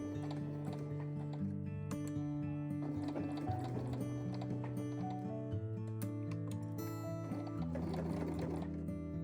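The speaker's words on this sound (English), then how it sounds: "Sew forward, then back, then forward again, and finally back to the center, where I finish with a back stitch." A sewing machine stitches forward and back across the fabric of a bow tote bag, making a steady, rhythmic mechanical patter that runs close and continuous throughout with brief shifts in pace.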